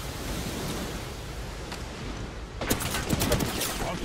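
Video game gunfire in a tactical shooter: a steady noisy wash first, then from about two and a half seconds a burst of sharp, closely spaced shots, moderately loud.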